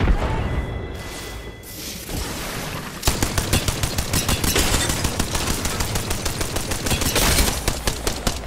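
Gunfire in the Apex Legends video game: after a brief lead-in with a whoosh, rapid automatic bursts start and continue loud and rhythmic to the end.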